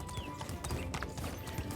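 Horse hooves clop in the video game Medieval Dynasty, a quick steady run of hoofbeats set against a busy game background with no talk.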